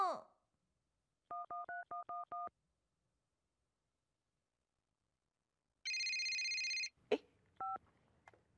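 A telephone gives a run of six short dialing beeps, then a loud sustained electronic ring tone, followed by a soft thump and one more brief beep, all close and clear with no talking.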